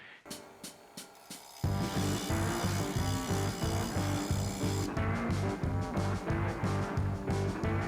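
A file sharpening the teeth of a saw blade, first a few light separate strokes, then a steady loud rhythmic rasping of repeated back-and-forth strokes close by, with no talk.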